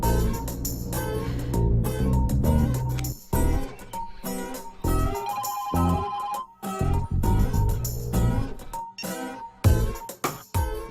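A phone ringtone plays as a melodic tune with repeated phrases and brief gaps, loud and close, heard on its own before a call with no voices over it.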